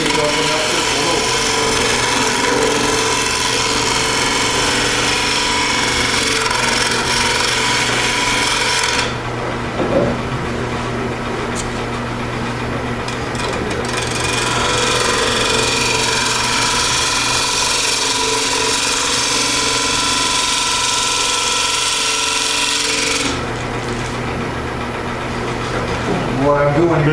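Gouge on a wood lathe cutting a two-piece hollow wood form, a steady rasping, scraping cut at close range that stops briefly partway through and resumes, with a low motor hum underneath.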